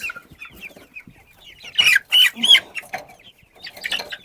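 Village chickens cluck close by, a burst of loud squawking clucks in the middle of scattered softer calls from a small flock.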